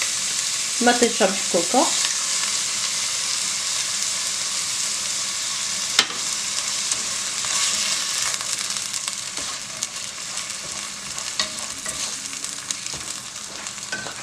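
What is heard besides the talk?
kefta meatballs frying with onion and carrots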